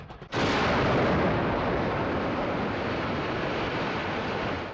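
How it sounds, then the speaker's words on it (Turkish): A sudden, massive blast of 870-kilogram bombs striking caves erupts and rolls into a sustained, loud roaring rumble of chain explosions that barely fades over several seconds, heard at distance. "ardından zincirleme patlamalar meydana geldi"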